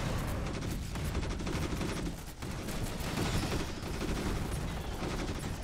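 Troopers' rifles fire in a real-time strategy battle in Starship Troopers: Terran Command, with rapid overlapping bursts of automatic gunfire and mechanical clatter. The shooting is loud and continuous, with a brief dip midway.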